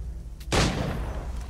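A single loud gunshot cracks out in the video game Assassin's Creed III, a sharp sudden blast that decays into a lingering rumble over a dense background of game noise.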